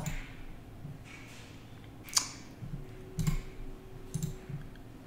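Sharp computer mouse clicks while connecting an analytics plugin on a website, about three or four distinct close clicks spaced across a quiet room with a low background hum.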